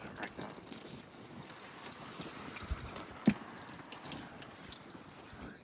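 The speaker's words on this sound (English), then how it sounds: "Draining the coolant right now." Coolant drains from a Roush Mustang during an engine rebuild, a soft steady trickle with scattered drips and one sharper splash, close by and fairly quiet under faint shop background noise.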